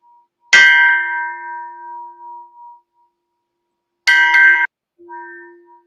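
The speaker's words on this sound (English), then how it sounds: "This is a big bell." A large Tibetan bell struck twice, each time a loud bright clang with a steady humming tone that rings on and fades, the second strike cut short and followed by a softer lingering ring.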